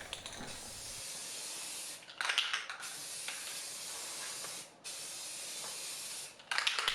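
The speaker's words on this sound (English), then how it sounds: "for primer, I'm using black Rust-Oleum spray primer" A can of black Rust-Oleum spray primer hisses in three long bursts, each lasting a couple of seconds, with brief pauses and faint rattling between them.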